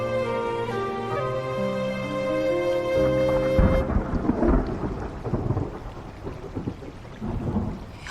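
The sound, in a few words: thunder before rain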